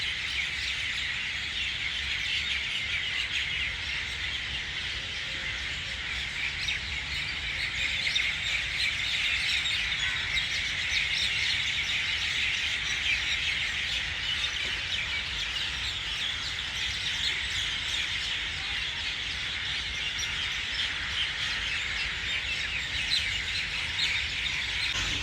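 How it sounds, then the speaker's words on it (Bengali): Birds chirp and call continuously in the Sharjah butterfly garden, a dense, steady outdoor chorus at moderate level with no talking. "এই পাখির ডাক শুনতে পারতেছেন আপনারা?"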